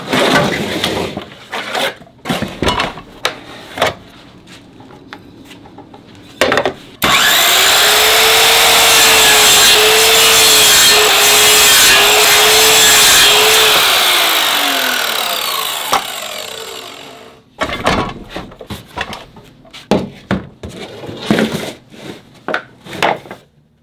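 A power saw cuts through wood for sled runner supports, running loud and continuous for about ten seconds with a slight pitch dip as the blade bites, bracketed by scattered knocks and handling clatter before and after.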